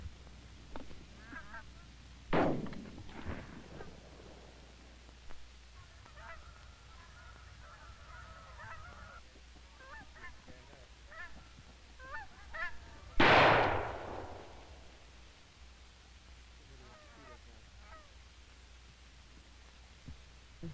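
Geese honk at a distance during a waterfowl hunt, with scattered calls throughout and one loud burst partway through, set against faint outdoor noise.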